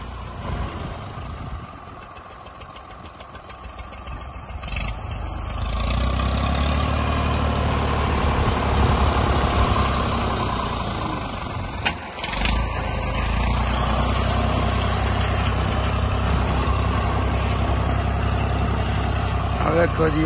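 A tractor runs during a wheat harvest with cutting in progress, its engine a loud, steady idling drone that swells after a few seconds and keeps going, with voices faintly in the background.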